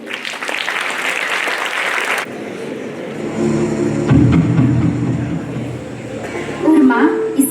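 An audience at a school annual function claps for group dancers for about two seconds. The applause cuts off abruptly and gives way to talking and other stage sounds.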